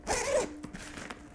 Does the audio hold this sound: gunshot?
no